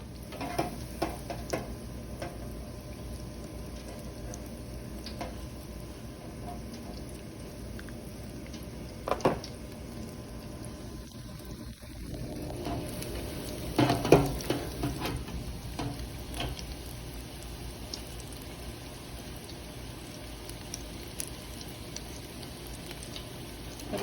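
Crab croquettes frying in oil give a steady sizzle throughout, with a few louder clinks and bubbling bursts midway, no speech.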